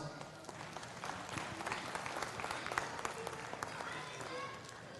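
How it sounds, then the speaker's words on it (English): Crowd applause ringing out at a cattle show ring after a champion Simmental female is named, dense steady clapping filling the space with a voice running underneath. "Let's give him a round of applause."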